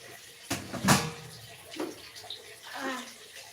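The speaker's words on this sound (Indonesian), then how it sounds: "Biar bakterinya mati. Disiram pakai sabun." Water splashes and trickles in short bursts as raw chicken is rinsed with soap, with a couple of louder splashes early on and softer running water after.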